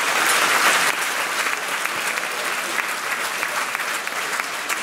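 A crowd at the closing event of the 2018 state garden show in Burg gives steady, even applause throughout, slightly louder at the start.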